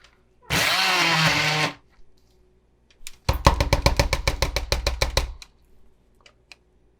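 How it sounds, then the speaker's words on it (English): An immersion blender whirs steadily through beets for about a second, then a rapid run of sharp clattering taps follows, with quiet moments between. "So we're gonna use an immersion blender for this part."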